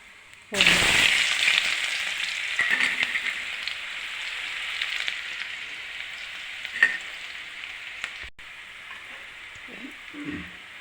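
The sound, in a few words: garlic, onion and curry leaves frying for bitter gourd poriyal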